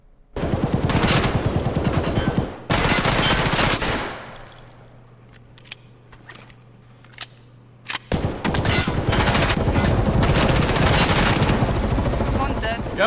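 Automatic gunfire in the shooter game Escape from Tarkov, loud sustained bursts of rapid shots opening the stretch, a quieter lull with a low hum in the middle, then another long dense volley to the end.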